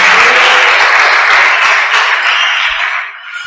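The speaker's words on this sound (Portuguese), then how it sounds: "Dê um aplauso ao Todo-Poderoso." A church congregation applauds during a sermon, loud sustained clapping from many hands close by that holds steady for about three seconds, then thins and fades away.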